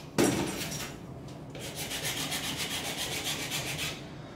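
A pipe is cut by 6 cm by hand during installation of a Duravit wall-hung toilet frame. It gives a steady, rasping back-and-forth sawing rhythm of close strokes that continues throughout.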